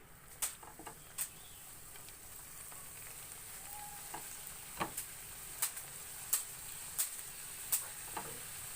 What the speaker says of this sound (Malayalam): സമൂസ എല്ലാം ഇപ്പം ഫ്രൈ ചെയ്തെടുത്തിട്ടുണ്ട്